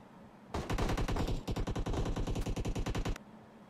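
Automatic QBZ rifle fire in PUBG Mobile: two long sustained bursts of rapid, evenly spaced shots, loud and close, with a brief break between them and no talk.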